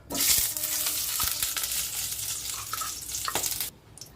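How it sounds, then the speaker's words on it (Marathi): Steady sizzling of ghee melting in a hot pan, with a few soft scraping taps, cutting out abruptly near the end. "आपलं तूप विरघळत आहे"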